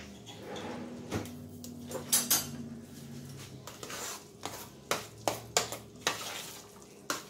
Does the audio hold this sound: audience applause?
no